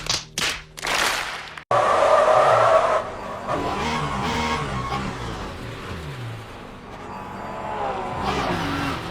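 A race car spinning out at Monza in Le Mans Ultimate: a few sharp thuds, then a long tire squeal and skid that fades into engine noise wavering in pitch.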